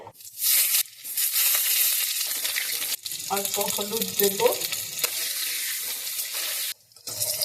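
Hot mustard oil sizzles steadily as potatoes fry, with brief stirring scrapes partway through and a person speaking over the cooking noise.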